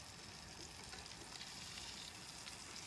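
Salmon with brown butter fries on a decades-old Coleman camp stove, giving a dense, continuous crackling sizzle that holds steady and fairly faint throughout, with no voices.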